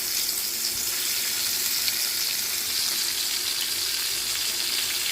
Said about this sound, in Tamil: நம்மளோட சிக்கன் நல்லா பொரிஞ்சிட்ருக்கு